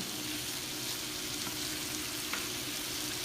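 Bacon and Brussels sprouts fry in a pan with a constant close sizzle and a few small pops, steady throughout with no talk.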